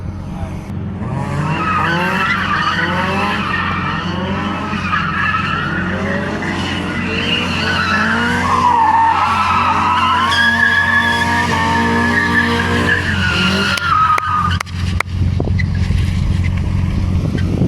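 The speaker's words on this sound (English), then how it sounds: "just let the wheel go and give it full throttle. And it'll spin all the way around." A BMW E46 spins a full 360 at full throttle during a night drift session, its engine roaring steadily while the tires skid and squeal loudly throughout, heard from inside the car with a sharp break near the end.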